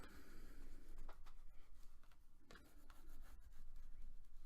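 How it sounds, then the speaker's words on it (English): A burnishing tool rubs firmly over glued paper on a vintage-style box, a close, soft, continuous scraping and rasping with short back-and-forth strokes and slight swells in loudness. "So I use my burnishing tool and I just make sure it stays real good."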